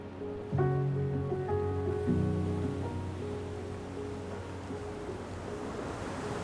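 Waves break against sea cliffs in a hidden lagoon on the Scottish coast, a steady broadband wash of surf that holds throughout beneath sustained tonal sounds.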